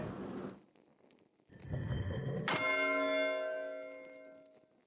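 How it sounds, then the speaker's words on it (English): Church bell in the Pentiment video game rings out alone after a brief rustle and thump, one resonant strike whose rich metallic overtones hang and slowly decay over several seconds. "There's a bell for 6."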